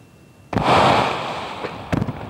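A high-altitude weather balloon bursts with a sudden loud pop, followed by a sustained roaring hiss that slowly fades, then a couple of short crackling bursts near the end.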